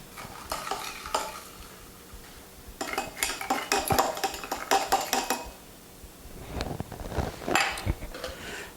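A metal utensil stirs a pot of Cajun redfish dish, with repeated scraping and clinking against the cookware in bursts and pauses, a faint sizzle underneath.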